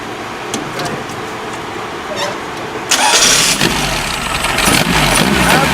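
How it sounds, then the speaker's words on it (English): A car engine cranks and catches on a portable jump starter with no battery connected, then settles into a loud, steady idle with a rough mechanical rumble. "This thing just started my car like a champ with absolutely no battery at all"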